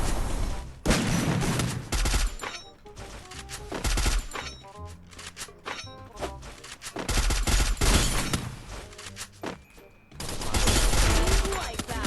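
Rapid bursts of gunfire from the video game Free Fire, loud and dense with repeated volleys and booming shots, broken by short lulls, while players talk excitedly over the action.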